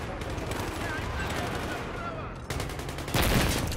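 Rapid gunfire in a Battlefield 3 multiplayer match, a dense fusillade of shots running throughout with a louder burst near the end, while players talk over it.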